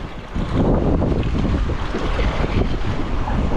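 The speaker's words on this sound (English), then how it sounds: "The wind's supposed to be cooling down." Strong outdoor wind blusters across a microphone beside water on a farm fishing spot, a loud, steady rushing roar with no talking.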